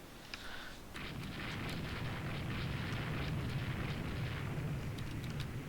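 Naval explosions from a torpedo bomber strike in the naval strategy game Rule the Waves 2, a continuous rumbling roar of blasts with scattered sharper cracks, steady and dense throughout.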